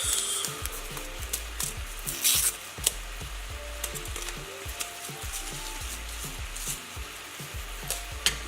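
Red pepper flakes being stirred into a shrimp and red pepper cream sauce in a pan, with steady sizzling and a repeated scraping stir. The sound stays close and even throughout, with no one talking.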